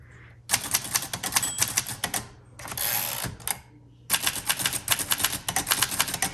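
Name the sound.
typing on a 1948 Underwood Champion portable typewriter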